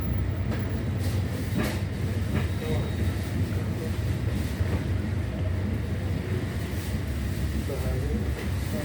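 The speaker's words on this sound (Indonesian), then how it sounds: "perjalanan kereta api Bengawan sudah diberangkatkan kembali dari stasiun Klaten" The Bengawan passenger train rumbles steadily along the rails after departing Klaten station in Indonesia, with a constant low rolling roar and occasional faint clicks and squeals heard from inside a carriage.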